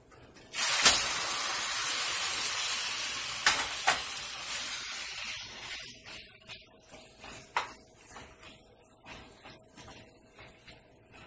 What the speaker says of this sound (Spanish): Aquí voy a sofreír muy bien la carne.